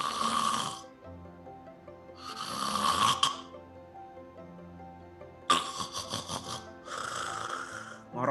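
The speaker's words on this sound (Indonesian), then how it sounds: "Ngorok lagi, terus berhenti lagi, tersumbat saluran nafasnya" Snoring from a sleeper with a narrowing airway, four loud rasping snore bursts of about a second each, separated by quiet pauses, recorded close up with no talk.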